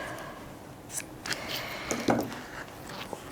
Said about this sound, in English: Now, we'll just cut this piece off.